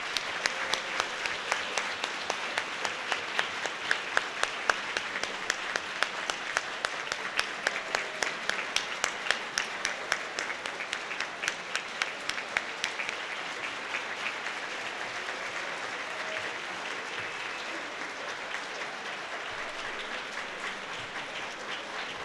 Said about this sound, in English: Please join me in one more round of applause for all of our retiring employees